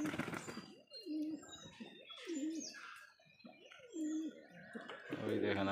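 Pigeons cooing in a rooftop loft on a rainy day, repeated throaty rolling coos close by, with someone talking over them and faint rain and background noise.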